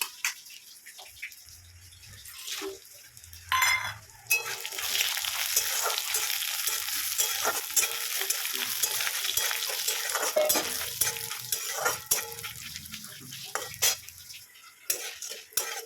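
Round potato slices frying in a pan, a loud, continuous sizzle broken by clattering spatula stirs and metal knocks against the pan.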